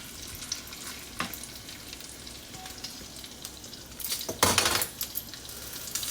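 Bacon fries in a pan with a steady crackling sizzle, close and clear, with a brief louder burst of spattering and light scraping midway; no one speaks.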